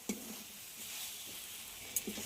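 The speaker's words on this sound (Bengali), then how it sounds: "আবারও খুব ভালোভাবে কষিয়ে নিতে হবে।" Watermelon rind curry seasoned with home-roasted cumin powder cooks in a pan with little oil, giving a faint, steady sizzle and a couple of soft scrapes of a spoon stirring, heard alone.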